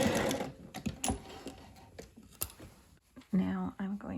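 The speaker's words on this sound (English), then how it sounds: "And then I will stitch out to the edge and back stitch." A sewing machine stitches out to the edge of a French seam pocket and then backstitches, with short bursts of close mechanical rattle and clicks broken by pauses and handling noises.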